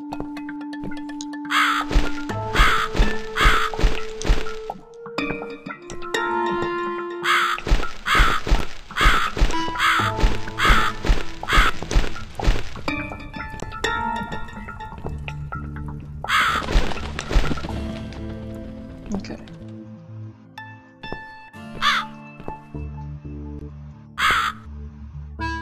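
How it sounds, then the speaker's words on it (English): Loud, repeated cawing of a crow-like bird in the horror video game The Cat Lady, harsh calls in rhythmic bursts along with thuds and cracking game sounds, and no talk. "There's the bird."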